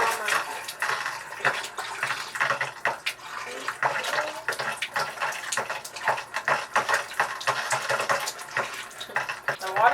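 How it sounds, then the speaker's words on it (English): Water runs from a tap through struggling pipes, an uneven splashing and gurgling flow with irregular bursts and knocks, heard close and steady for about ten seconds. "The water's struggling to go through the pipes today."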